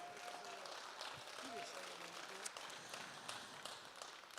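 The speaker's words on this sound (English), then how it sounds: "So let's give him another round of applause, please." Applause from a concert audience at a country music stage show, a sustained crowd clapping heard from a distance with cheering and talk mixed in over it.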